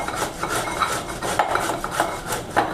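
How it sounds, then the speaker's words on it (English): A boiled, peeled beet is rubbed against a grater in a steady rhythm of close, wet rasping strokes, roughly two per second, with no voices. "Now it's time to grate."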